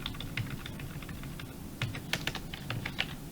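Quick irregular clicks of code being typed on a computer keyboard, close and clear, steady bursts of keystrokes with no talking.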